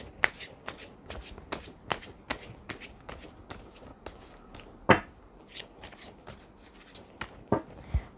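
Tarot cards are shuffled over and over in a close, quiet setting, giving steady papery riffles and soft snaps in an even rhythm with a few sharper flicks.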